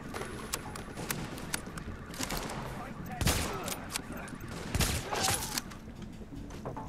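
Scattered gunshots in The Division shooter game, sharp cracks ringing out over a busy background of game effects, with two heavier impacts standing out; no talking.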